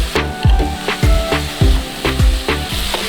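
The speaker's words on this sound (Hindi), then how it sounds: "अच्छे से मिक्स कर लें इसको।" Vegetables and green onion are stir-fried over a high flame with a steady loud sizzle. A spatula scrapes and tosses them in regular strokes roughly every half second, and no voices are heard.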